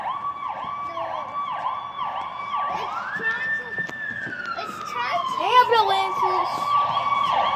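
A voice imitates an ambulance siren outdoors during play, a loud wailing up-and-down whoop repeated in a steady rhythm, then a long rising and falling cry, with children talking over it.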